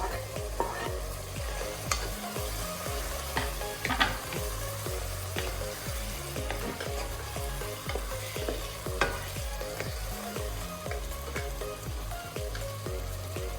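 Chopped tomatoes sizzling in a pan with mutton for a green mutton biryani, stirred continuously with repeated scraping and clinking of the spoon over a steady frying hiss.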